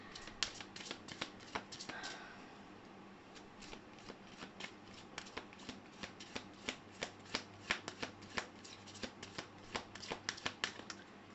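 Tarot cards shuffled by hand in quick, soft riffling flicks and crisp slaps, close and quiet, in an irregular steady rhythm with no talking.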